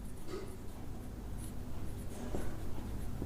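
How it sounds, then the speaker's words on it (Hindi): Handwriting on a board or paper during a Hindi physics lesson on thermodynamic processes, a steady scratchy rubbing of strokes, fairly close and quiet, with no talk over it. "चलो नीचे लिखता हूं"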